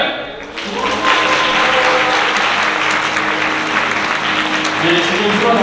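Wedding guests break into sustained applause with some cheering as the groom's parents enter the hall, a dense, even wash of clapping that swells quickly and holds steady, with a faint voice underneath.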